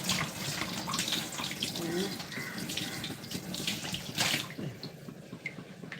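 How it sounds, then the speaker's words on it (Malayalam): A kitchen tap runs steadily while dishes are washed beneath it, with splashing and gushing water and occasional clinks of utensils at close range. "ഈ എടുത്ത പാത്രങ്ങളൊക്കെ ഒന്ന് കഴുകി വെക്കണം"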